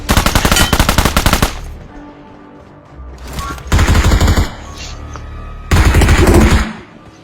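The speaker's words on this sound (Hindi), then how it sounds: "मुझे राइट से गोलियां चलने की आवाज आती है" Bursts of automatic gunfire in the mobile battle royale game BGMI, loud, rapid rattling volleys separated by short pauses, three main bursts with quieter shots between.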